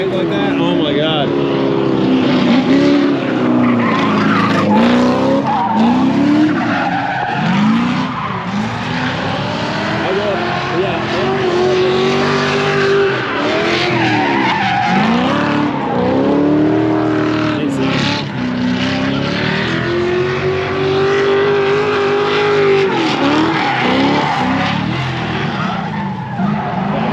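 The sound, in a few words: V8 Miata drift car skidding at drift event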